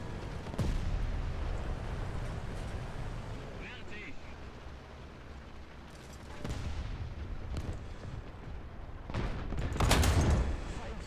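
A tank cannon fires in War Thunder, giving a few deep, booming blasts spread across the scene with low engine rumble between, while a voice talks over the action.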